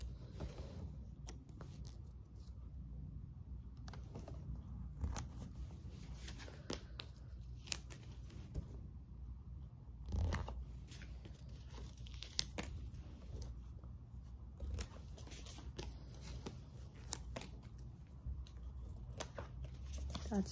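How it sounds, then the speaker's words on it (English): Sticker sheets being handled and peeled while decorating a reading journal, with soft crinkles, small tearing sounds and taps in a quiet room, with occasional faint voice. "Oh, let's do the little stickers. We'll put the stickers around there."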